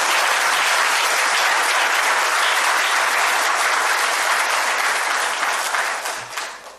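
A packed hall audience at a Tamil film appreciation ceremony bursts into loud, dense applause that holds steady for several seconds, then tapers off near the end.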